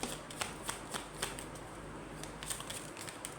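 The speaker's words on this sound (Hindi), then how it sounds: "लेट्स सी, कार्ड्स निकाल लेती हूँ पहले आराम से" Tarot cards shuffled and handled in repeated soft riffling bursts with crisp clicks of cards snapping, close and quiet, no talking over it.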